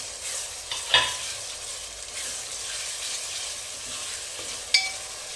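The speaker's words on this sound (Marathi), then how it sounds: "हे टोमॅटो चांगले शिजेपर्यंत त्या कांद्याबरोबर भाजून घेऊ" Tomatoes fry with onions in a pan for Hyderabadi chicken biryani: a close, steady hissing sizzle with two sharp metallic utensil clinks, one early and one near the end.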